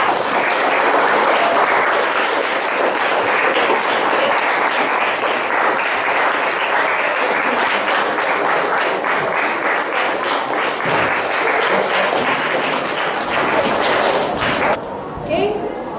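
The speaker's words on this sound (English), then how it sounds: "Give applause for him." A class of schoolchildren applauds a classmate in an English lesson, giving loud, dense, sustained clapping close by that runs for several seconds before abruptly tapering off near the end.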